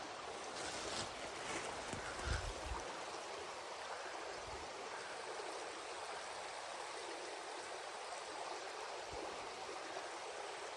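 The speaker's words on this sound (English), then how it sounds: "I'm just following this creek, and man, it's pretty nice" A wilderness creek flows in a continuous, soft rushing wash, heard fairly faint and steady, with a few low thumps near the start.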